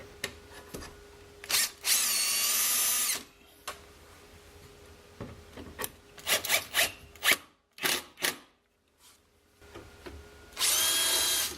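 A power drill whirs in two long bursts drilling pilot holes while installing an INCRA router table, with several short pulses of drilling and clunks in between, close and loud against a quiet room.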